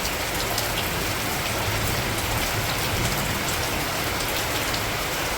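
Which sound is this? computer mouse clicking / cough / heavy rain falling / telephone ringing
heavy rain falling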